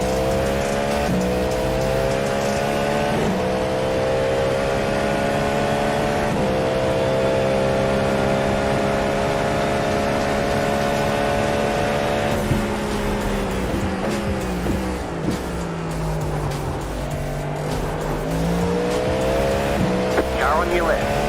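Race cars in the iRacing simulator with a steady, loud engine drone, shifting pitch as gears change and others close in from behind, plus brief tire squeal, while a voice speaks over it.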